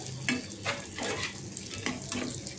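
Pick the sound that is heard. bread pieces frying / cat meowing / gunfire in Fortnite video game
bread pieces frying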